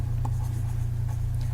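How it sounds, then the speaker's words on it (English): A pen or pencil writes a name on a sheet of black paper, a soft continuous scratching faint against a low steady background hum. "On the black piece of paper, you do the same thing. You write your first name"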